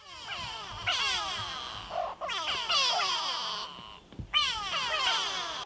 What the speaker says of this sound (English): We heard all these go-away birds going off here along the river